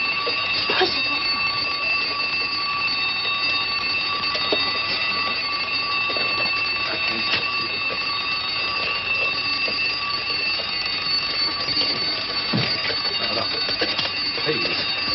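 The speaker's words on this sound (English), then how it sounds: "I'll set the alarm." An old bell alarm clock rings loudly and continuously, a steady metallic clatter that fills the room, with people talking over it in a 1941 film scene.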